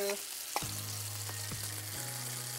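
Beaten egg omelette mix hisses and sizzles in a pan over a medium flame, a bright continuous frying crackle heard up close with no talking.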